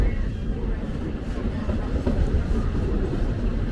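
The Walt Disney World Railroad train rolls along its tracks with a steady low rumble and faint rhythmic wheel clatter, heard from aboard the moving car.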